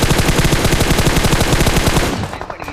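Rapid automatic gunfire from a battle royale video game, a dense sustained burst of shots close and loud for about two seconds before cutting off abruptly and fading out.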